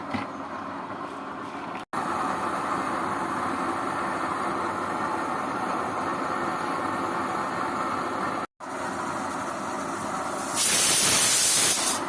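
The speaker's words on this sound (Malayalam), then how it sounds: "13:40 സെക്കൻഡിലാണ് ആദ്യത്തെ വിസിൽ വന്നത്" A steady hiss of steam runs throughout from a pressure cooker on a waste-oil rocket stove, then near the end a loud, high-pitched whistle bursts out for a couple of seconds.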